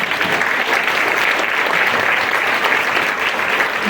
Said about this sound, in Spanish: un aplauso para todo lo que hemos escuchado hoy en la tarde.